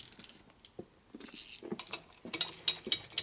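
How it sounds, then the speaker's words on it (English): A wrench spins and clicks in short, uneven bursts while turning head bolts on a Harley shovelhead motor, close and fairly quiet with small metallic taps between strokes. "See how this wrench makes it go quicker?"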